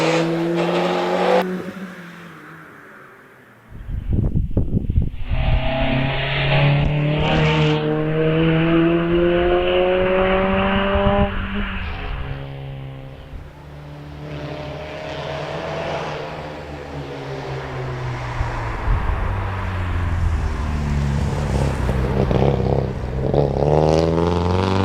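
An Alfa Romeo 75 rally car climbs the Prescott hillclimb, its engine revving hard and rising and falling through gear changes as it threads the S-bends, loud and close, with no talk over it.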